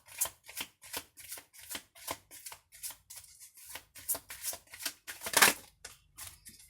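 Tarot or oracle cards being shuffled by hand, a quick regular run of soft papery riffles and slaps close up, with one louder burst near the end and no talk.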